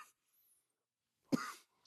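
A single sharp cough rings out close and clear after near silence, preceded by a faint breathy sound.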